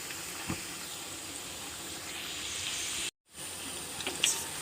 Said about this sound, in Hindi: अब हम इसे थोड़ा तेज़ आंच पे फ्राई करेंगे।